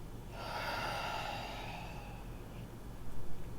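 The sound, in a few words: person taking a breath during yoga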